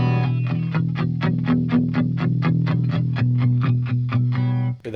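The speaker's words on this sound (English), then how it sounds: "Hear that in the background, that weird kind of robotic sound starting to swirl, that's the flange happening." A Fender Champion 50XL amp running its flanger effect on a strummed guitar, a robotic, whooshing swirl sweeping through sustained distorted chords with steady repeated strums, loud and continuous, no voices.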